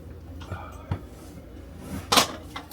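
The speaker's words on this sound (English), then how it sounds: "Cabinet door shuts, that's good." An RV cabinet door shuts with a sharp clack near the end, after a few softer knocks and handling noises, close by with faint background.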